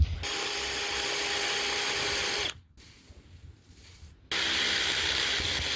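A power drill boring a 3/8-inch hole through a steel winch cable ferrule, a loud close grinding whir that stops for about two seconds, then resumes just as steadily.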